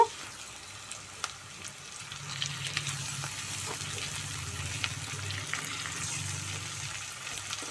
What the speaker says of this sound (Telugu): ఉల్లిపాయలు అయితే మంచిగా వేగిపోయినాయి ఇప్పుడు టమాటాలు అయితే వేసుకుందాము